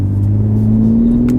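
2018 BMW X3 M40i in sport mode, engine note rising steadily as it revs under load, a loud close droning hum climbing in pitch; no distinct exhaust crackles stand out.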